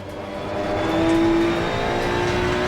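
A GT2 race car engine in Assetto Corsa Competizione, revving up and holding a strong, close, steady drone with no talk.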